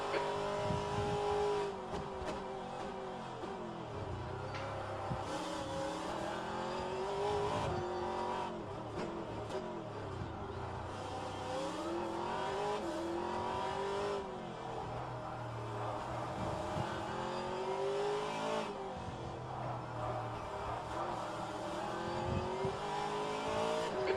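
Race cars in rFactor2 at the Long Beach street circuit, several cars fighting for position, engines revving and downshifting continuously with occasional tire squeal, a dense loud racing roar throughout.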